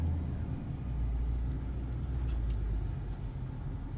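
A 2016 Ford F-350 Lariat Super Duty with the 6.7 Powerstroke diesel pulls away in drive, giving a steady low engine rumble close by with no talk over it.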